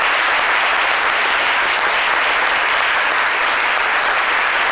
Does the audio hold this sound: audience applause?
yes